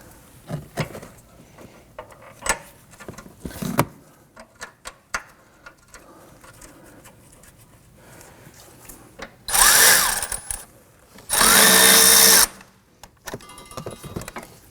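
A power tool runs down a bolt on the rear engine torque strut mount of a 2015-2024 Nissan Murano 3.5L V6, two loud sustained bursts after scattered close clinks and handling noises.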